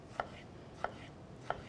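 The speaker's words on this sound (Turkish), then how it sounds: "Hemen domatesimizi de şöyle bir ikiye bölüp ondan sonra onu da küçük küçük" A knife chops a small tomato on a cutting board, three crisp, evenly spaced cuts at a relaxed pace, close up and quiet in a kitchen.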